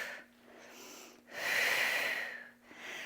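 Breath during a prenatal Pilates chest fly: soft breathing, then a long, strong, airy exhale, then another quieter breath, close to the microphone and with no talking.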